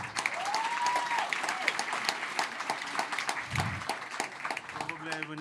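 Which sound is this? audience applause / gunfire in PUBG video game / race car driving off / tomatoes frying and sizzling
audience applause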